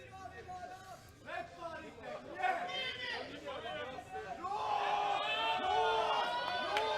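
Home crowd at the 2021 World Classic Powerlifting Championships, women's junior 57-63 kg deadlift, roars with cheering, whoops and chatter that swell steadily and stay loud to the end.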